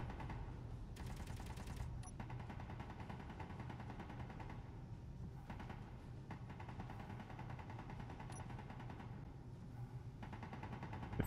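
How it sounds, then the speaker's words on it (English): Gunfire in the game Space Engineers, with rapid bursts of shots aimed at a station, heard faint and distant as a steady rattling stream with a few brief louder volleys. "They're shooting at the station."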